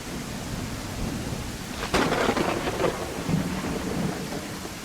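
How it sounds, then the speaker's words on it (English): A thunderstorm in the video game I Am Jesus Christ: steady heavy rain hiss throughout, broken by a sudden loud thunder crack that rolls and rumbles for a couple of seconds. "It's too early for a storm, isn't it?"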